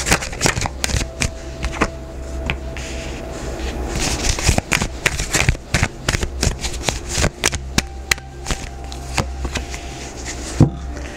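Tarot cards are shuffled and flipped close up, a loud riffling patter of card edges with sharp slaps and snaps scattered across the stretch, no voices.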